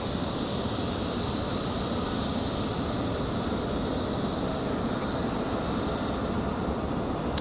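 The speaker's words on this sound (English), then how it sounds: "Here comes JetBlue from Fort Lauderdale." A JetBlue jet airliner arriving at Raleigh Durham International Airport roars steadily and loudly, a continuous broadband engine rush holding for several seconds.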